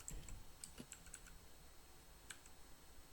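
Keystrokes on a computer keyboard as a terminal command is entered, a few scattered clicks in a quick burst, then a pause and a final tap, fairly faint and close with no voices.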